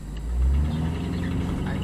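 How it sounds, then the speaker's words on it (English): Large truck engine rumbling past on a narrow road on City Island in the Bronx, a low steady drone that swells briefly and then holds, nearby and moderately loud. "this giant truck on this thin road."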